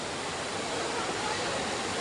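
River rapids at a waterfall-fed stream in Terengganu rush and splash in a continuous, broad roar, close by and steady with no pauses.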